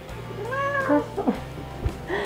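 A hungry cat meows several times close by, drawn-out mewing calls over quiet background.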